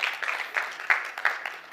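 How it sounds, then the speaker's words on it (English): Audience applause welcomes a speaker onto the stage at a COP28 event: a steady, fairly faint wash of clapping with a few sharper individual claps standing out, heard alone with no talking. "Let's please give him a huge round of applause and welcome him onto our stage."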